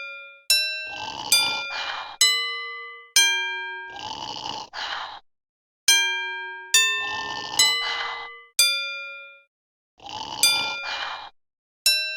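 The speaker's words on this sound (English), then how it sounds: "If we play the bells in the right order, I'm sure he'll wake up." Bells ringing beside a sleeping donkey in Scooby-Doo Showdown in Ghost Town: loud, clear bell strikes in quick runs of three or four, each ringing out, alternating with breathy cartoon snores.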